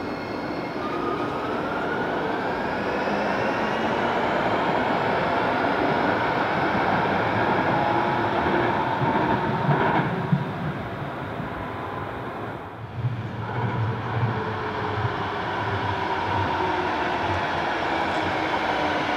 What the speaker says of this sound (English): The traction motors in these trains also sound amazing.